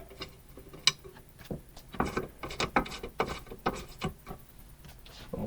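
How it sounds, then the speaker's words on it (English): Thumb screws being removed from a device, a run of close, quiet mechanical ratcheting clicks and small rubbing knocks repeating irregularly for several seconds. "I'm going to take the thumb screws out"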